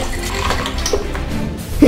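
Bucket of ice water poured over a person outdoors, a brief loud splashing gush that runs throughout, with no talk.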